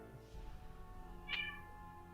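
A cat meows once, short and fairly clear, over a quiet indoor background with a faint steady hum.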